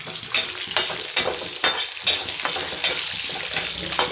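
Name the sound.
garlic sautéing in pan for lentil chutney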